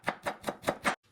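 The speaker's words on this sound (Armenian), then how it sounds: "Մանր կտրտում ենք։" A knife finely chopping onion on a board for a Bolognese sauce, five crisp, evenly spaced chops close up, then a brief faint tap after a short pause.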